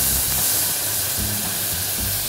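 Prosecco hits a hot pan of frying onion for an asparagus risotto, letting out a loud, steady steam hiss and spitting sizzle that holds evenly throughout.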